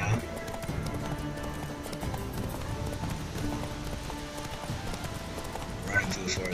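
Roach the horse galloping in The Witcher 3, rapid rhythmic clip-clop of hooves running steadily through a forest, close and continuous with a voice talking over it.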